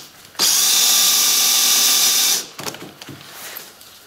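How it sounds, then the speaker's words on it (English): A power drill runs steadily for about two seconds, boring holes for the screws of a twin-legged Pletscher bicycle kickstand, then stops. A few faint clicks and handling noises follow. "we're going to drill these holes so that these screws just drop right through"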